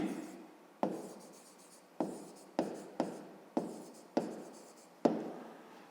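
Pen writing on paper during a 5th-grade math exercise, heard as a series of short scratchy strokes, each starting with a sharp tap and fading, about seven in a row, close and fairly quiet with no talking.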